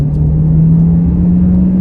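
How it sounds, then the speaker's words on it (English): A 2023 Hyundai Tucson Hybrid Blue accelerates at half throttle, heard from inside the cabin as a loud, steady low engine drone with road rumble and no rise or break across the stretch. "We'll do a little half throttle pull once this car passes, half throttle."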